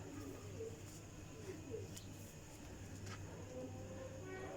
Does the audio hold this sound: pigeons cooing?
yes